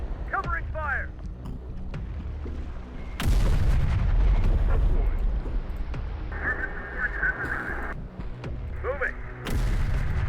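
Gunfire and heavy blasts in the Terminator: Dark Fate - Defiance video game, with loud sustained firing bursts during a battle against a large Legion force, broken by calmer stretches, radio-style voice chatter and electronic tones.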